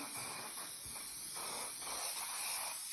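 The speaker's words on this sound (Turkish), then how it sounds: "Ben şimdi burayı tam eşitlemek için bir sprey sıkıp öyle keseceğim birazdan." Soft hissing from an aerosol can of hair spray, sprayed in several short bursts, quiet and close.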